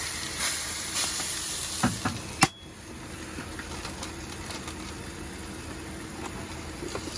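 Salmon fries in a Ridgemonkey Connect pan with a steady, close sizzle and hiss, broken by a few light clinks and scrapes.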